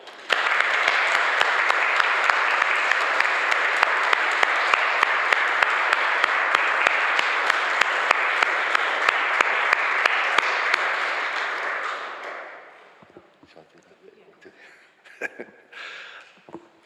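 A congregation at a Unitarian chapel anniversary and membership service applauds new members, with loud, steady, dense clapping for about twelve seconds before it fades into scattered quiet sounds and small knocks.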